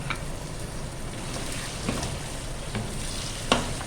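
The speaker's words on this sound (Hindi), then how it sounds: "अब मैं इसमें शामिल करूँगी ये चॉप किया हुआ लहसुन और ये अदरक के 1 स्पून, ये इसमें ऐड करना है मुझे और इसको अच्छी तरह से भूनना है।" Chopped garlic and a spoon of ginger frying in a pan for mutton liver karahi, a steady close sizzle with a few sharper crackles and pops and no voices.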